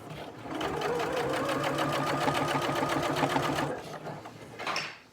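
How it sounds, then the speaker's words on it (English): A sewing machine with a regular presser foot stitches piping for a chair in one steady run of rapid needle strokes, close and loud, stopping before a brief softer burst, with no talk over it. "I am going to sew straight across here from this corner to this corner, just straight across"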